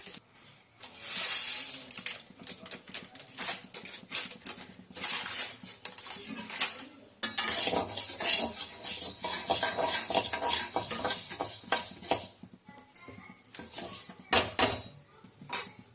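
Spices roast in a dry pan for kuzhambu chilli powder, crackling and popping in dense, rapid bursts as they are stirred, with metallic scrapes of a spoon, close and fairly loud, no talking.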